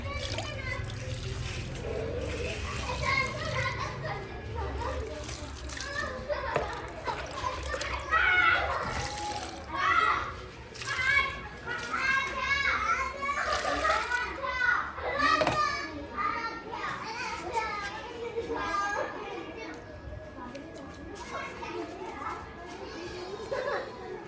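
Children playing outside, with high chattering voices, shrieks and laughter close by over a steady background hum, and some splashing water mixed in throughout.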